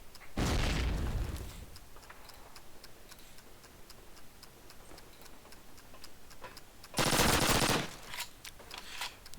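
Call of Duty 1 grenade explosions on a railyard map, two loud broad blasts a few seconds apart over a steady ticking clock-like pattern and faint background game noise.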